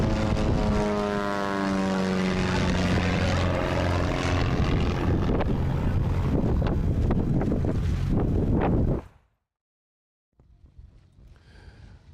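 A Cessna 175 light airplane with a 180 horsepower Lycoming O-360 engine makes a loud, close banking pass at a competition event, its propeller drone steady for about nine seconds before cutting off sharply, followed by faint outdoor background.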